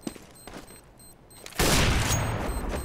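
A loud burst of rapid gunfire in CS:GO breaks in abruptly after quieter game sounds and sustains as a dense, near barrage to the end.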